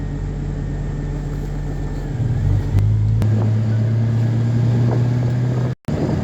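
A Porsche 944 drives at steady speed, its engine drone shifting pitch as the car changes gear, with loud road and wind rumble filling the interior and a brief cut near the end.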